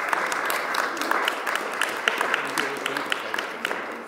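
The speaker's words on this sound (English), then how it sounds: "I ask for one more round of applause for some really great people" An audience at a school board meeting claps steadily for a few seconds, scattered sharp hand claps over a warm crowd wash, with voices faintly underneath.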